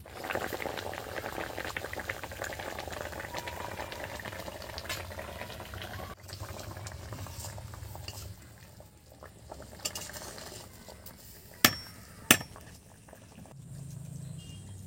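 Elephant foot yam curry bubbling in a pot, a continuous close boiling burble that thins out midway, with two sharp knocks toward the end.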